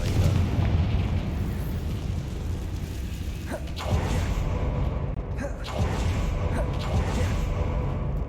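Blasting-curse explosions boom and rumble in the Hogwarts Legacy video game, with a few sharper bursts over a dense, continuous roar and no talking.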